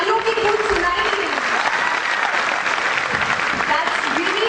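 A conference audience at a young leaders' gathering in Indore breaks into continuous applause, a full, close wash of clapping with some crowd noise mixed in.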